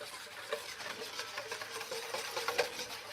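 Sauce being whisked in a pan at breakfast prep, a soft, rapid scraping and swishing rhythm, fairly quiet and steady, with a few sharper taps of the whisk.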